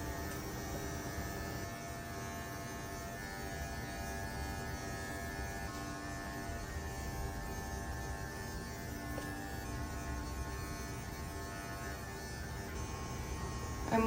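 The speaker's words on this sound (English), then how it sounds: "I'm just gonna finish shaving the other side of his body." Electric clippers hum and buzz steadily while shaving a dog's body during a contour-style grooming session, a constant close drone with no speech.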